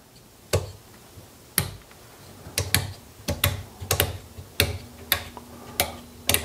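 Sharp mechanical clicks sound as the 20-amp well pump circuit is switched on at a transfer switch, several distinct snaps at irregular intervals, close and dry in a quiet room.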